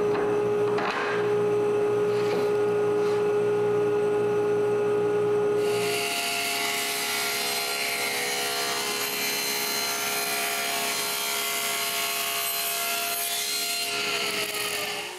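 A table saw fitted with a zero-clearance throat insert without a splitter cuts through wood for a camera baseplate: a steady motor whine, then a loud, dense cutting roar from about six seconds that runs on to the end, with no talk.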